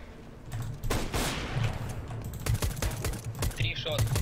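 Gunfire in a competitive shooter video game, with rapid bursts of sharp shots in quick succession, close and loud, mixed with other game sounds and some voice activity.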